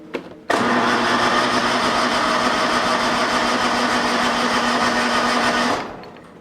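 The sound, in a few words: lawn mower engine running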